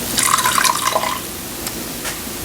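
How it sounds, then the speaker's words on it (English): Water is poured halfway up baby back ribs frying in a hot pan, with a brief splashing gush over steady sizzling that carries on after the pour. "I'm going to add water to about halfway up on the ribs."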